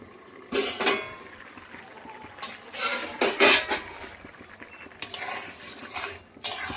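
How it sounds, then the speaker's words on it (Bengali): A lid comes off a cooking pot of ghugni with several sharp metallic clanks and clinks, scattered over a few seconds against a quiet kitchen background. "ঢাকনাটা খুলে দেখে নেব।"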